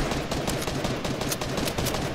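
Rapid gunfire in the Fortnite video game, a dense, loud stream of shots with sharp cracks repeating steadily throughout, no talking.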